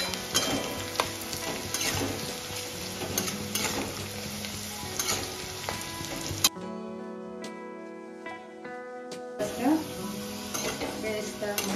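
Onions fry in a pan for mutton kosha, sizzling steadily while a spatula stirs and scrapes against the metal, with a brief quieter stretch before the frying and stirring resume.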